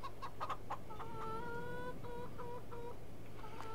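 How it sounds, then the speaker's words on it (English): Chickens clucking in the Farming Simulator 22 video game, a series of short, nasal clucks and drawn-out bawks repeating steadily over a constant low engine-like hum. "Let's check on the chickens."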